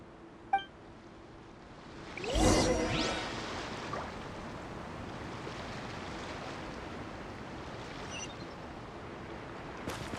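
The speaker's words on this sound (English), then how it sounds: "Carving waves!" A boat carves through waves in the video game Genshin Impact, with a brief whooshing splash surge after a faint click, then a quiet, steady wash of water trailing off.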